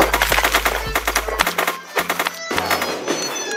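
Rapid gunfire from the online battle royale game Zombs Royale, a burst of close, loud shots in quick succession with short pauses, mixed with game sounds and faint background music.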